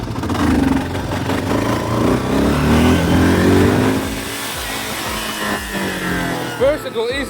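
A motorcycle engine revs and accelerates loudly, its pitch climbing through a gear before easing off, with a rider talking over it.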